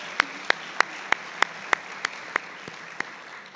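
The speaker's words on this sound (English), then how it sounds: "Let's hear a round of applause for them." Clapping at a guide and service dog graduation ceremony: about ten sharp, evenly spaced claps, close and distinct like a single clapper, with no continuous crowd wash behind them and the last few slightly softer.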